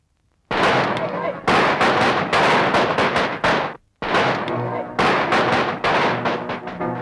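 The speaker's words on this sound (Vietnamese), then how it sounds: "Những tiếng nổ của ngày hội, của hòa bình, của niềm vui lại vang lên trên đường phố không còn tiếng súng." Celebratory firecrackers bursting on city streets in Saigon in May 1975, dense crackling volleys in two long loud bursts separated by a brief pause.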